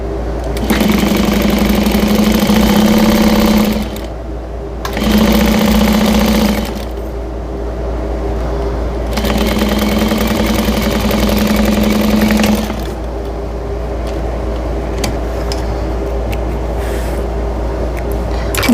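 Sewing machine running a quarter-inch seam at 2.5 stitch length, loud close whirring bursts of about three seconds each separated by brief pauses, over a steady low hum.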